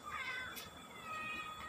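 A cat meows faintly in a quiet indoor space at a mother-and-child hospital ward, one drawn-out cry followed by a softer second call, with no talk over it.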